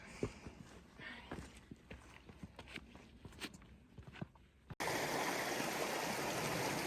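Clear stream water rushing over rocks at a river crossing on the Sespe River trail, a steady broadband wash that starts under footsteps and light movement, then jumps to a loud, close, continuous roar for the last couple of seconds.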